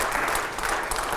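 Loud, sustained applause from a studio audience fills the whole moment, a dense steady clatter of clapping hands at a political talk show with no voices over it.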